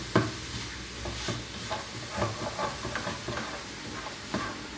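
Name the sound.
sautéing chicken and onions in the frying pan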